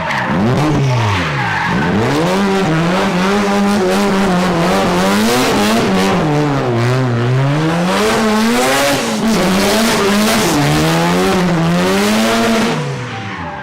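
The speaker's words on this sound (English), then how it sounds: "rotary car owner or not, that it produces one of the best sounds ever. I mean, just listen to this." A Mazda car with a rotary Wankel engine running hard, its buzzing engine note rising and falling through repeated revs and gear changes, loud and close with no talk.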